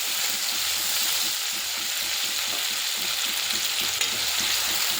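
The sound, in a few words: stirring ground spice paste frying in oil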